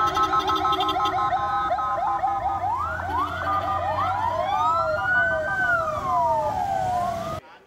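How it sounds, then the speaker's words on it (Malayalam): An ambulance with a police escort speeds along a road in Kerala, its wailing siren rising and falling loud and close, with overlapping sweeping tones from more than one siren. "പോലീസ് അകമ്പടിയോടെ ആംബുലൻസ് പുറപ്പെട്ടു"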